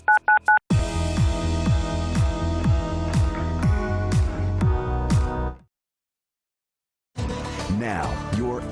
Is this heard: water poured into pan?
no